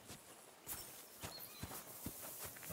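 Horse hooves clip-clop at a walk in the medieval video game Kingdom Come: Deliverance 2, a few soft, spaced hoof strikes over quiet outdoor ambience, faint and fairly distant.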